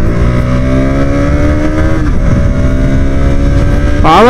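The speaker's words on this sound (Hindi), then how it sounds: "चलिए सबसे पहले एग्जॉस्ट नोट ले लीजिए, एग्जॉस्ट नोट इज गुड।" A 2023 KTM Duke 125 BS7 E20 motorcycle engine runs loud and close with a buzzy exhaust note, holding steady revs, dipping briefly, then surging sharply upward in a quick throttle blip at the end.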